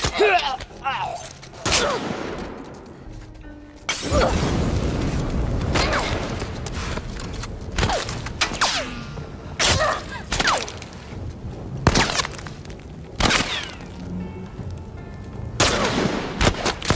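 Bursts of gunfire and booms from The Last of Us Left Behind video game crack out repeatedly over a dense, noisy in-game soundscape, with voices talking in places.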